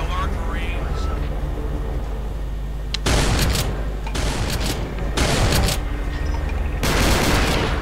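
Gunfire in Brutal Doom played in GZDoom: dense bursts of rapid shooting come in loud waves separated by quieter stretches, under a constant low rumble, with someone talking in German.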